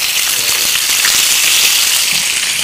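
Basa fish frying in a pan, a loud, steady, close sizzle of hot oil crackling continuously without pause.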